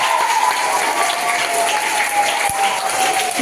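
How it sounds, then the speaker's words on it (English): A class of schoolchildren claps for the top five readers at a reading competition, steady dense applause filling the room from start to finish, with one brief thump partway through. "we will clap for them"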